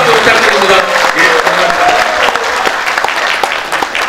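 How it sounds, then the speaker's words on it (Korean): A crowd claps warmly and steadily for a council member at a rally of regional council members demanding local decentralization, the dense applause filling the whole stretch without pause. "네, 의원님께 큰 박수 부탁드립니다."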